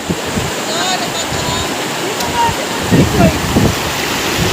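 Steady rushing water of a river in Malacauyan, Umiray, Dingalan fills the whole clip, a broad continuous wash, with a few faint voices briefly rising over it near the end.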